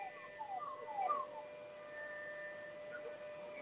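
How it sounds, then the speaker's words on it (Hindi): Police vehicle sirens wail faintly in the distance from patrols on the streets before the Twin Tower demolition, a few rising and falling tones over a steady low hum, with no voices. "पुलिस की गाड़ियों के सायरन भी हम सुन सकते हैं।"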